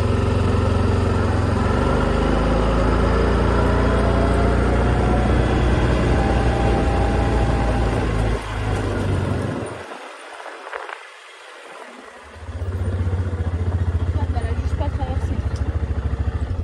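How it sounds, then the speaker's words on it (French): A quad bike engine runs loud and steady nearby on a farm, its low drone dipping briefly near the middle before returning at full strength. "Et moi, je monte en quad pour qu'on puisse les changer de pré."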